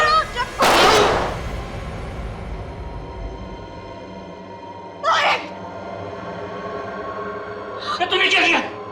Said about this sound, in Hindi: तेरे वजह से गोली चल गई।